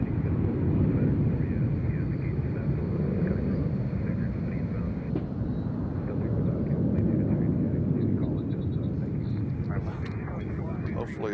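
A fixed-wing airliner takes off from runway 20 right at Nashville International Airport, its engine roar a loud, broad rumble that holds steady and slowly fades, while a person talks over it.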